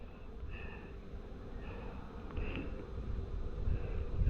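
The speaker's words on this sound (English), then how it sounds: "these are lovely calm bees" Calm honey bees buzz steadily around an opened hive that was recently moved for the summer, a soft continuous drone with occasional louder passes of individual bees close by, over low rumbling background noise.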